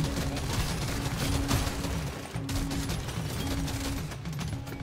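Many guns fire at once in Deep Rock Galactic Survivors, a dense, continuous rattle of rapid shots with a steady tone running beneath it.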